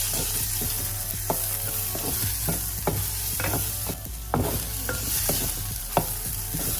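Onions frying with cumin in hot oil in a pan, a steady loud sizzle broken by repeated scraping stirs of a spoon against the pan, with no voices.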